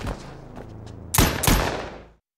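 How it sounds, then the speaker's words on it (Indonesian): Gunfire in a film: two sharp, loud shots in quick succession ring out after a low, tense background, with no talking. "Victor dengan kejam menembak Karen hingga tewas"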